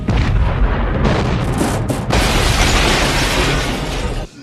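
A loud, sustained movie explosion effect from The Hitcher, with a roaring blast and crashing debris rumbling continuously for several seconds before cutting off abruptly, no voices present.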